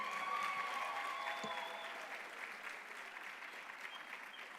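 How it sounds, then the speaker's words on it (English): Sustained audience applause at the inaugural Kenya National Research Festival 2024, a dense steady wash of many hands clapping that carries on unbroken and eases slightly toward the end. "Can we have another round of applause for all our guests and for all of yourselves for waiting for them?"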